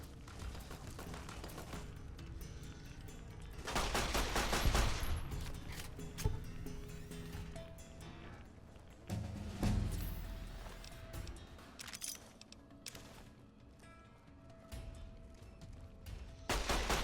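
Pistol gunfire in the Fallout: New Vegas Lonesome Road add-on, heard as loud bursts and sharp cracks with booming impacts, mixed with game music and ambience.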